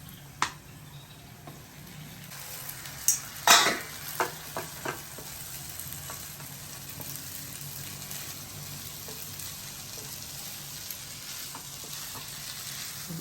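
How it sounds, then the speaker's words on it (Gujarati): Spaghetti goes into a pan of tomato sauce and is stirred, a soft steady sizzle broken by a few sharp clacks and scrapes of the spoon early on, then settling into quiet frying. "હવે એમાં તમારી સ્પેગેટી નાખી દો."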